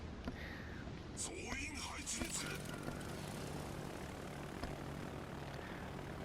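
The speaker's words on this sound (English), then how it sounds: "not before launching a torpedo bomber" A Japanese torpedo bomber launches off an aircraft carrier in World of Warships, its propeller engine droning as it lifts away, faint behind a voice speaking over the game audio.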